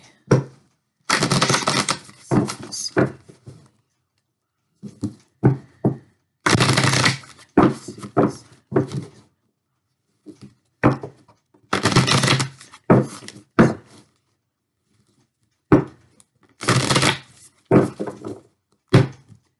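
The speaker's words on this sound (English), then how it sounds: "I put my energy into these cards, I talk, I shuffle" Bursts of rapid tarot card shuffling, close and crisp, repeated several times with short pauses and soft taps between each riffle.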